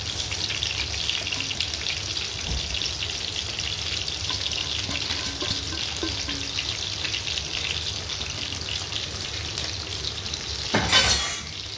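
Rice for white pulao stirred in a pot, a long soft sizzling hiss with scattered scrapes, ending in a brief louder splashing burst near the close; no talk.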